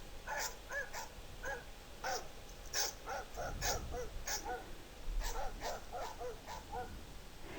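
A dog barks repeatedly from a mobile app in a quick series of sharp yaps at moderate loudness, with no talking.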